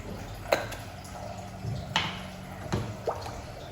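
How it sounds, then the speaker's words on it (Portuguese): Water splashes in small separate pours onto seasoned ground meat in a pan, four soft wet drips and splats spaced about a second apart over a low steady background hum. "Deixa eu ir jogando aqui a água."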